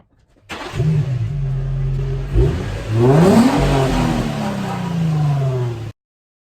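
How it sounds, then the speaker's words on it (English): A brand new Lamborghini sports car sits in a garage, its engine starting up and then revving: a steady loud idle, followed by a rising surge around the middle that holds strong before cutting off abruptly. No voices. "Here in my garage, I just bought this brand new Lamborghini."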